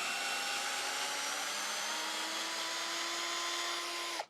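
A Ferrex 12 volt cordless hammer drill bores into hardwood denser than pine, giving a loud, steady motor whine at close range that dips slightly in pitch under load partway through before cutting off abruptly.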